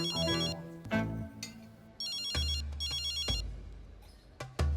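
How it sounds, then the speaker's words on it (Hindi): A phone ringtone plays a repeating electronic melody in bursts, loud and close, with a few heavy thumps between rings. "तुम्हारे फोन की घंटी दिमाग में लग रही है,"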